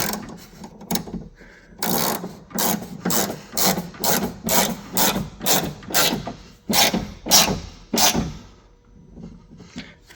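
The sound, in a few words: tightening a T30 Torx screw on a Porsche window regulator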